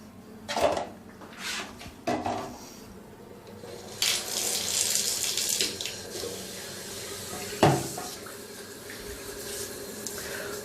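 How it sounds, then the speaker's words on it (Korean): Running tap water flows from a bathroom faucet during rinsing after scale and water-stain removal, a steady close rush with a few louder splashes and clatters. "물로 헹굴 때는 가하다 싶을 정도로 물로 린스를 해주는 게 좋습니다."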